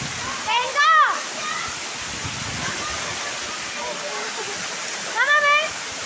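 A waterfall pours in a steady, loud, close rush of water. A child and an adult speak and call out over the roar.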